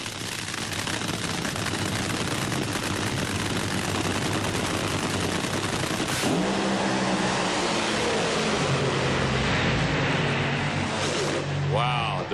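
Dick LaHaye's nitro drag racing car roars down the strip at the Houston NHRA Supernationals in 1999, a loud, continuous, crackling engine blast that dominates throughout while an announcer talks over it.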